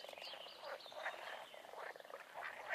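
Frogs croak in a carp-fishing scene of the video game Fisher Online, set in Czechoslovakia: a steady chorus of repeated calls, moderately loud and fairly close, with no talking.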